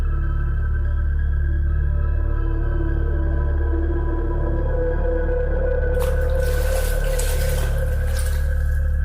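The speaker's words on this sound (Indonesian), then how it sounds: "Suara kran menyala." A steady low hum fills the space, then a tap opens and water starts rushing out in a continuous hiss partway through.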